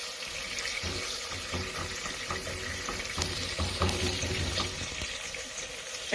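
Something is sautéing in olive oil at the start of a homemade pizza sauce, giving a continuous broadband hiss and crackle, loud and close, with some faint low clatter and no speech.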